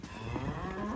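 A single calf lets out a short, fairly close moo. The calves are young Simmental cattle, about two to three months old and over a metre tall, kept in a farm setting.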